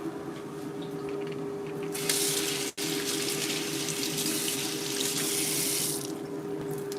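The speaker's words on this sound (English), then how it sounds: "Okay, I'm gonna wash my hands." Water runs steadily from a kitchen sink tap while hands are washed beneath it, a continuous close splashing hiss with a brief break midway.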